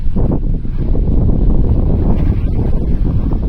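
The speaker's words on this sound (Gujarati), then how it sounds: "ફૂલ પવન આજ ઉપડી." Strong wind roars and buffets the microphone continuously, a dense low rumble with no break.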